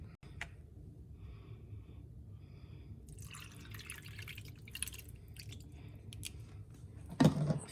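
Watered-down tomato juice pours from a container into a skillet of browned cube steak, a soft steady trickle and splash that ends in a brief louder slosh, with no voices.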